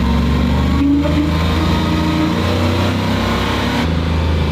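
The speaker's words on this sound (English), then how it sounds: "So I'm taking the old Spud truck for its maiden voyage, and it feels like it's in low gear." Old pickup truck, a converted spud truck, on its first drive in four-low gear, its engine droning loud and steady with a constant low rumble and little change in pitch from inside the cab.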